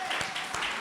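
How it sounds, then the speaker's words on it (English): Audience applause at an arts celebration honoring Hispanic heritage, a brief burst of clapping for Aisha, a ValleyCreates advisor, dense and steady for under a second. "I just want to do another shout out and applause for Aisha"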